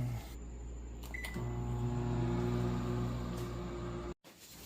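A microwave oven hums steadily for several seconds after a brief high beep, set to defrost, with its drone cutting off abruptly near the end.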